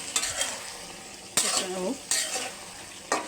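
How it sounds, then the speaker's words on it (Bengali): Dried bamboo-leaf fish curry with winter vegetables being stirred in a pan, a few scraping strokes with soft sizzling between them, close and alone. "নেড়ে চেড়ে দিব।"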